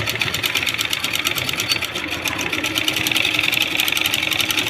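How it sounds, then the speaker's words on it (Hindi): A sewing machine stitching a plain blouse runs steadily and close by with a fast, even mechanical whir and clatter that holds unbroken throughout. "और यहाँ से एक स्टिच लगा देंगे सिलाई।"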